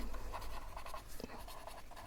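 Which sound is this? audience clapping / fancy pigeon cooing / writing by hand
writing by hand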